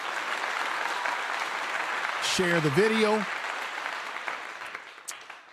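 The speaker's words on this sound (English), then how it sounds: "I'll give you a clap." Applause-like clapping, a steady dense patter of hands that runs throughout, with a voice speaking briefly over it partway through before the clapping tapers off.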